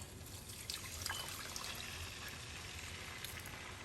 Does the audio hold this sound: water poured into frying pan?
yes